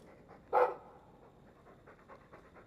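A dog pants softly in the Dragon Age video game, with a short louder huff near the start followed by faint rhythmic breaths.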